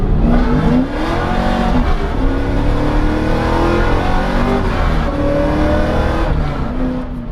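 A car with 411 gears and a 7.5-inch GM rear end accelerates hard, its engine revving loudly and climbing through the range with a brief dip for a shift, close and continuous throughout.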